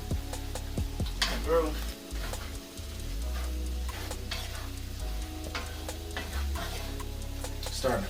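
Beef stroganoff sizzles steadily in a pan while a spoon stirs and scrapes through the sauce, producing close, soft clinks and bubbling hiss at moderate volume.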